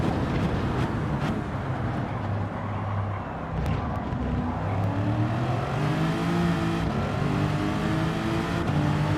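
A race car engine accelerates into turn 1 during a GTTC Group F final, a steady loud roar with rising pitch as revs climb, heard from inside the car without talk.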